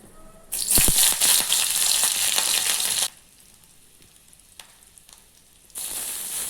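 Dried red chili, panch phoron and green chilies hit hot mustard oil in a pan with a loud sudden sizzle and crackle that holds for a few seconds, goes quiet, then comes back as a steady frying hiss.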